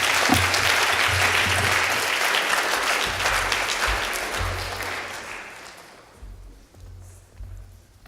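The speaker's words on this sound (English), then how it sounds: "We'll give Matt a round of applause." An audience at a conference keynote in Birmingham claps steadily for several seconds after a presentation, then the applause thins out and fades to scattered claps.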